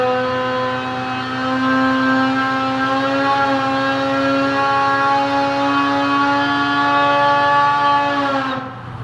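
A 2018 Polaris Axys 800 snowmobile engine with a Bikeman Stage 3 setup runs on a dyno, holding a loud, steady, harmonic drone for several seconds before cutting off abruptly at the end.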